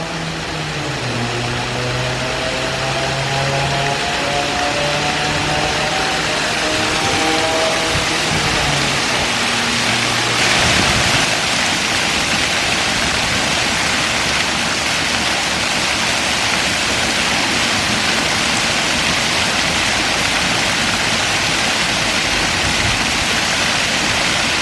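Water rushing past an old mill: a loud, steady broadband roar of falling and flowing water throughout, close by, with a low humming tone rising and falling in the first ten seconds.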